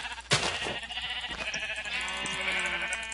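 Sheep in the Minecraft video game bleat over a busy backdrop of game sounds, with a sharp hit near the start and a few short animal calls mixed into steady noise.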